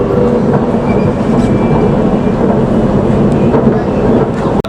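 KTM Komuter commuter train on the Kuala Lumpur line near Serdang, running steadily on rails with a loud continuous low rumble and faint clickety-clack of wheels throughout, recorded from on board.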